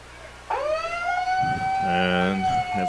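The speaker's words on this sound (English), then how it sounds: "We do have sirens going now." A siren wails near a varsity high school football field, rising then holding a steady tone alongside a second siren pattern, loud and close, with a commentator's voice talking over it.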